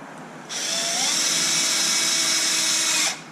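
A power drill or driver runs in one steady burst of about 2.5 seconds, tightening a bolt on a Traxxas Wide Maxx 4S RC kit, loud and close, with a brief rise in pitch near the start and no talk.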